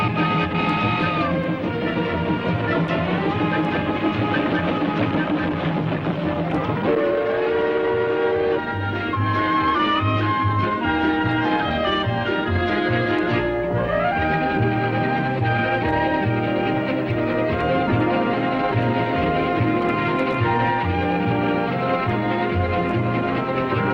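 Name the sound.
steam passenger train at Disneyland Frontierland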